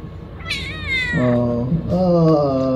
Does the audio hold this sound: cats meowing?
yes